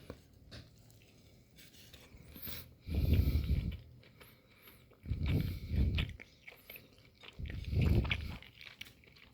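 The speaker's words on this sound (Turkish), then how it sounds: "Bir ısırık alayım." Three loud, close crunchy bites into pizza topped with pastırma and chicken, each followed by chewing, with quiet pauses in between.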